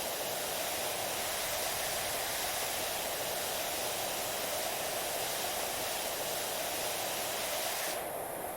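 Steady, dense hiss of a pressure washer spraying in the video game PowerWash Simulator, continuous and unbroken at even loudness throughout, with no talk over it.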